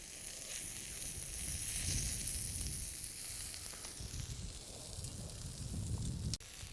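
Salted and peppered goat meat sizzles steadily on a hot plate over a campfire, a continuous close hiss and crackle, with a sharp click near the end.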